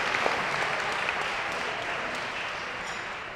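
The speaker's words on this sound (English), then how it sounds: "everyone, a huge round of applause for them" An audience at a university inter-varsity debate awards night gives a long, even round of applause, a moderately loud, dense wash of clapping that holds steady and eases slightly by the end, with no talk.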